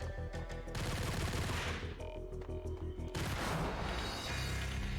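Rapid bursts of submachine gun fire from the PC game Max Payne rattle in quick volleys, broken by short pauses, dense and overlapping with booming impacts.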